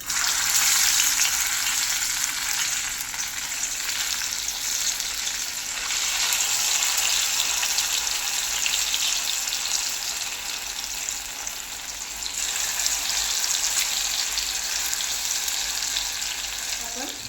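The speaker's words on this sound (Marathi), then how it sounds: "तेल तापलेलं आहे तर त्यामध्ये तळून घेऊ. आता आपण तळून घेऊ." Colocasia leaf rolls (alu vadi) deep-fry in hot oil, filling the space with a loud, dense, continuous sizzle and bubbling hiss that swells and eases slightly over time, heard close with no talking.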